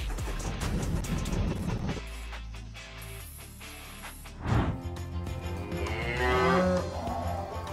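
Cows moo in a rotary milking parlor on a dairy farm. Several loud, drawn-out moos rise over steady machinery noise and clatter, with one close call midway and more overlapping calls near the end.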